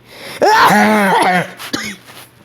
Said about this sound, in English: He coughed everywhere.